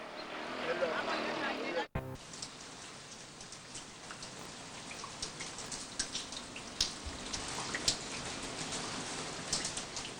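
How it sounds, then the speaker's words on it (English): A tropical rainstorm in the rainy season pours down steadily, a dense hiss of rain with scattered sharper droplet patters; after a brief cut near the start it settles into an even, close downpour. "I was still surprised to wake up to a tropical rainstorm"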